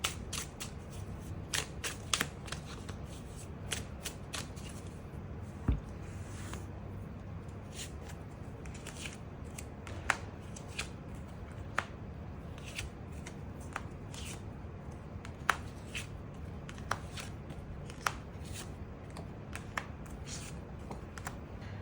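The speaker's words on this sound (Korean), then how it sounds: "그 부분 추가 카드 뽑아보도록 하겠습니다" Tarot cards are shuffled and drawn close by: rapid papery riffles and soft slides with frequent sharp taps and flicks as cards are laid down, on a quiet background with no talking.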